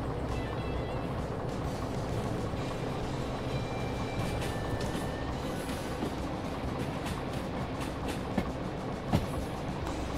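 Derail Valley locomotive coupling onto and pulling a line of wagons, a steady broad rumble of rolling stock with faint squeals, a couple of sharp clanks near the end, no talk.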